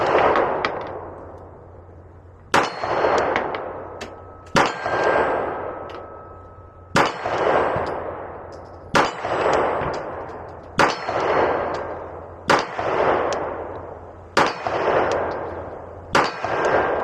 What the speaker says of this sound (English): Let's shoot the Glock first